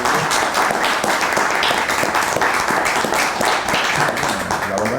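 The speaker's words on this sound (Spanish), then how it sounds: "Pido un aplauso para el doctor Rivera." Sustained audience applause after a lecture on arbitration in the new Civil Code, dense steady clapping from a room full of people filling the whole stretch at an even level.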